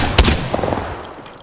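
A short burst of gunfire in the video game Apex Legends: a sharp close shot followed by a rapid rattle of quieter shots fading out.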